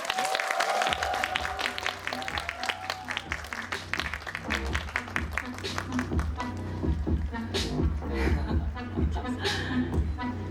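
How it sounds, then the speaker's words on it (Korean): Audience applause at a Netflix series screening Q&A as the director and cast take the stage, steady clapping mixed with crowd chatter, chuckles and a voice talking over it. "큰 박수 부탁드립니다"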